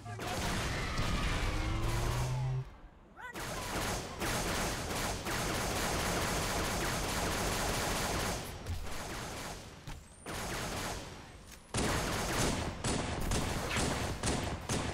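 Rapid gunfire from the video game Halo, dense bursts of shots and impacts filling the scene almost without pause, with brief gaps and a voice partly under the action.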